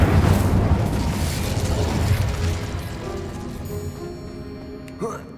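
Incendio fire spell cast in the game Hogwarts Legacy, a loud fiery burst that rumbles and roars at the start and then slowly fades out over several seconds, with no talk over it.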